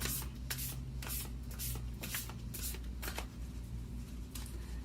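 Moonology oracle cards are shuffled in quick, soft riffling bursts that repeat in a steady rhythm, close and fairly quiet with no talking.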